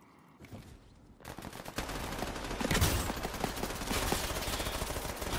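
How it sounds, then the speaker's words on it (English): Dense rapid gunfire in the video game Off The Grid, with bursts of shots that build from a quieter start into loud, continuous fire and no voices. "Oh, someone shooting at me."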